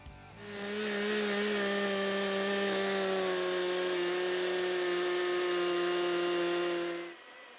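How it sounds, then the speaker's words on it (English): A gas chainsaw engine drones loudly and steadily for about seven seconds, a buzzing, harmonic-rich roar that starts abruptly and cuts off at the end. "As expected, this gas-powered chainsaw was way louder."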